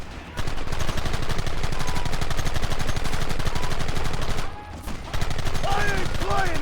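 Rapid gunfire from a Red Dead Redemption shootout, dense volleys and repeated shots crackling steadily and loud for most of the stretch, with a brief lull before firing resumes alongside shouted voices.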